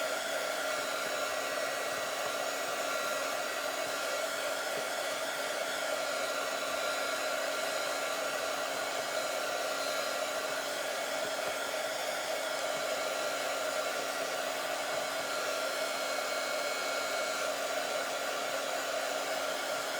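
A handheld hair dryer blows steadily for about twenty seconds, a continuous close whooshing roar with a faint motor hum and no voices.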